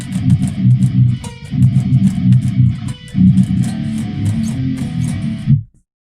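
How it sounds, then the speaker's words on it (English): An electric guitar tuned to drop B plays a song's intro riff: loud, chugging low palm-muted notes with quick picked accents, steady for several seconds before cutting off. Nobody talks. "The intro riff on the left guitar sounds like this."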